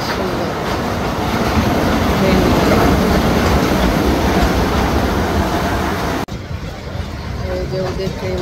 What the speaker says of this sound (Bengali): এই যে ওদের ট্রেন চলে আসতেছে।